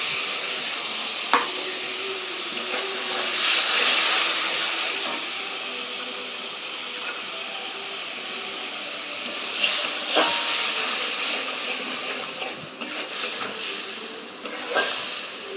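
A spice paste of ground ginger, cumin, chili and tomato sizzles and hisses steadily in a hot pan, with stirring scrapes and occasional louder spatters over the continuous frying.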